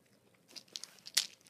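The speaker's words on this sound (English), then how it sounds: "You're supposed to suck on it, but I'm going to chew it." Fizzy Coca-Cola flavoured candy chewed close up: faint, irregular crunches and crackles that end in one sharper bite, over a quiet background.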